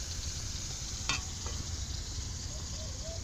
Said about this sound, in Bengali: এবার একটু ভেজে নেব।